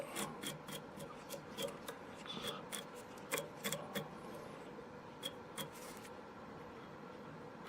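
Velcro on a lollipop stick rubbed over a tied river nymph fly, giving a run of quick, close scratchy rasps and clicks in irregular bursts over a faint steady background.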